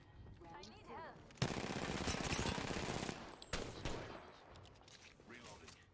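Automatic gunfire in Apex Legends erupts in a sustained loud burst after a quieter opening, then trails into scattered shots, with faint voices and game chatter around it.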